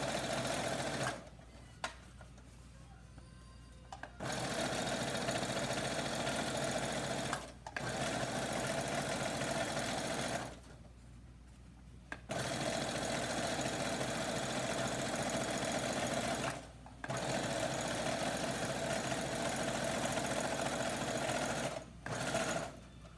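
A sewing machine stitches the edge of an Ankara fabric scarf in steady, close whirring runs, stopping several times for short pauses before starting again.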